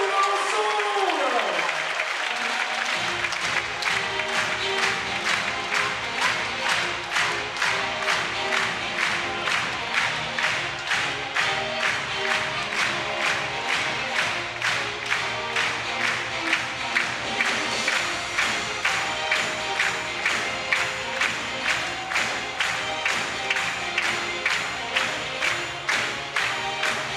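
A crowd at a French final claps in a steady rhythmic beat, the synchronized claps repeating evenly and loudly, with a voice briefly heard over the start.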